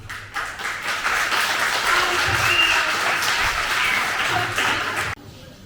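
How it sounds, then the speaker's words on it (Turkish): Students fill a hall with sustained applause during an environmental awareness session, a dense, steady wash of many hands clapping for about five seconds before it stops abruptly. "Bilenlerden alkış çalsın."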